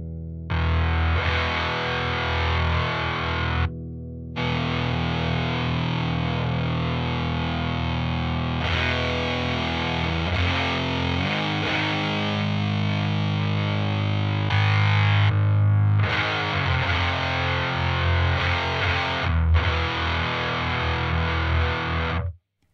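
Heavily distorted electric guitar through Arion Metal Master and Behringer HM300 distortion pedals, alone and stacked, with EQ being adjusted; sustained loud saturated chords played continuously with a couple of brief gaps and no talking.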